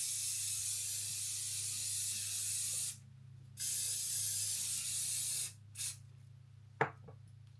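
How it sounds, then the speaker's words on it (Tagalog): Setting spray misted over a freshly made-up face in several short hissing bursts, a long one up front then briefer pauses and puffs, with a low steady hum underneath. "I'm just gonna put more spray."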